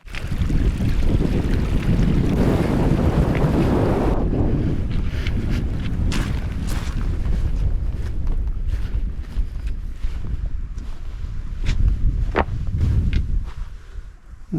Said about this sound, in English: See how windy it is up there first.